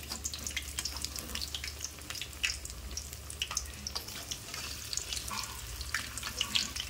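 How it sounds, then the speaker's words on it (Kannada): Snacks frying in oil in a kadai give a steady, dense crackle with scattered sharp pops and faint watery splashes, close by and continuous with no talk. "ಈ ರೀತಿ ಎಣ್ಣೆ ಸೆಂಟ್ರ್ ಒಳಗಾದ್ರೆ ಇವ ಚಂದ ಫ್ರೈ ಆಯ್ತಾವ್ರಿ"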